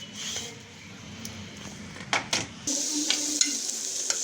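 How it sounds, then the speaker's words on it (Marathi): Sliced onion frying in oil in a pan while making chicken dum biryani, a steady close sizzle with a few sharp clinks and scrapes of stirring partway through. "आता आपला हा कांदा परतून झालेला आहे"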